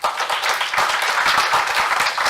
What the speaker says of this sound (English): a round of applause for the students